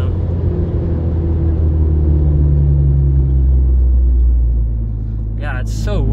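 An Acura RSX fitted with Stoptech brakes brakes gently from 60 mph to a stop. A steady, loud low road and engine rumble fades as the car slows, and a voice speaks briefly near the end.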